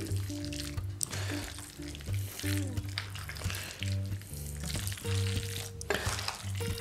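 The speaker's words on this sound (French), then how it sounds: "Je mélange ça comme une farce." Foie gras stuffing mixed by hand in a bowl gives soft, squelchy, wet stirring sounds that come and go, close up and fairly quiet, with faint voices and a tonal background underneath.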